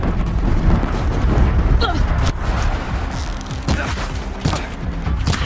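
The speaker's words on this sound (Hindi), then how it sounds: "मशीन की गोलियां और मिसाइल्स" Rapid machine gun fire and booming missile blasts in a shooter video game, dense and continuous with repeated explosive hits throughout.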